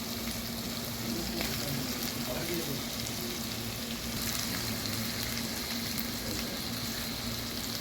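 Tomatoes, onions and mint sauté in a pan for salmon fish biryani, producing a dense, continuous frying sizzle that holds steady and close throughout.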